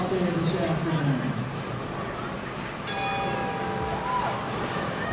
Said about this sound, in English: there's the sound of the bell